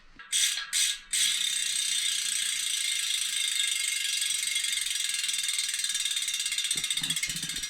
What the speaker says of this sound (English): the Freehub is on. Let's do a noise check.